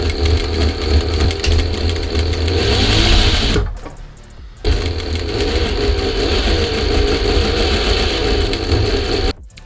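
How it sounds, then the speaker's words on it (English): A sewing machine stitching the shoulder seams of a toile, running loud and steady with a fast rhythmic whir, stopping briefly midway and then running again until a final stop. "I first stitch the shoulder seams at 1cm seam allowance, and they are right sides together."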